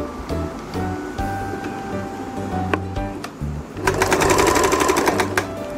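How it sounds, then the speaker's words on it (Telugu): A sewing machine stitches the hem of a plazo pant, its rapid mechanical chatter running in bursts with short pauses, growing louder and denser near the end, close and clear with no talking. "దాన్ని కొద్దిగా ఇలా మార్చుకొని కుట్టేసుకుందాం."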